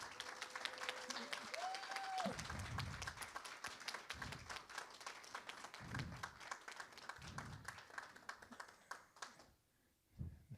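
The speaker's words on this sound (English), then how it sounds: "Let's give these folks a big round of applause." A graduation audience at an adult education ceremony claps in a long, loud round of applause, with some scattered cheering and a voice early on, before the clapping cuts off abruptly near the end.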